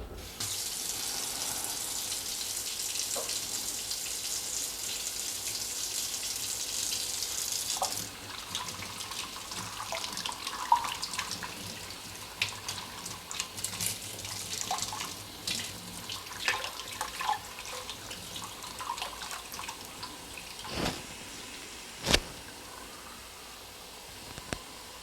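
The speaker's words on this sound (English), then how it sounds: "then you have to run warm water through it to flush it out" Warm tap water runs into a sink to flush hog sausage casings for making bratwurst, a steady hiss that stops, followed by scattered splashes, drips and handling clatter nearby.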